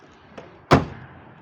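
Rear door of a Lada 2109 Samara being opened: a light click followed by a single loud, close metallic thunk of the door, no talking.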